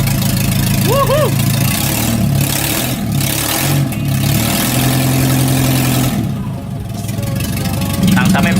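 A Honda Accord Maestro CB7 with a swapped engine idles steadily with a deep, even hum, punctuated by brief rises, while someone talks over it.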